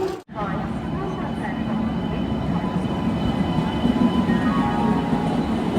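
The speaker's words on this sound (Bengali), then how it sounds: "ট্রেনের অ্যানাউন্সমেন্ট আর ইঞ্জিনের ঘোরঘোর শব্দ কোনো সময় এখানে থামে না।" Diesel and electric train engines rumble at Howrah station in a low, continuous roar, with a constant murmur of crowd voices beneath the drone and no clear break.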